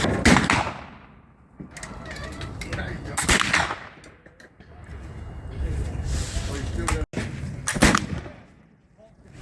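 A large black powder doglock musket loaded with 80 grains fires outdoors, giving several loud, booming reports with rolling echoes, while people talk around the shots.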